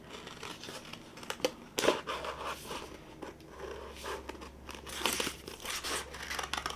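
Scissors cut a paper Christmas tree shape from paper, making close, quiet snips and crinkling paper rustles in an irregular rhythm.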